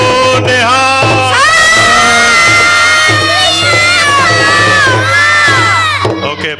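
A gurdwara congregation shouts a Sikh jaikara response in unison, a loud sustained chorus of many voices, children among them, rising and falling in pitch.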